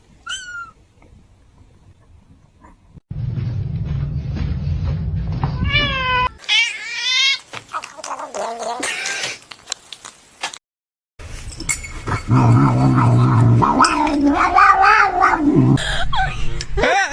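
Several cats meow and caterwaul in a series of rising, wavering cries, close and fairly loud, with occasional clinking and a person speaking between the calls.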